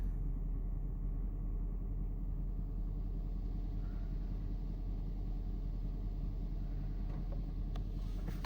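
A 2003 Range Rover engine idles after a cold start, a steady low rumble with a constant, even drone throughout and no revs.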